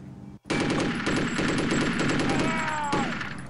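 Rapid automatic gunfire in the first-person shooter Chaser, a loud sustained machine-gun burst that starts abruptly after a short pause and rattles on steadily for about three seconds.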